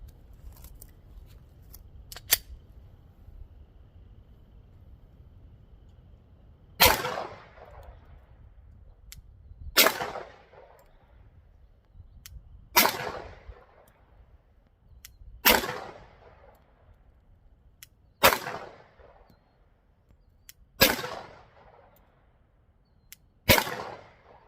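Seven sharp .40 caliber gunshots ring out one at a time, spaced roughly every three seconds, each a loud crack with a short ringing decay, against quiet outdoor background.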